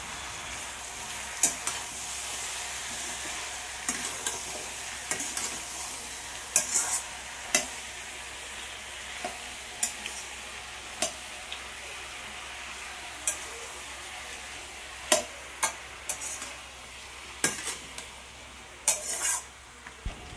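Eggplant pieces being stirred and fried in a pan: a steady oil sizzle runs throughout, broken by scattered sharp clinks and scrapes of the spoon against the pan. No one speaks.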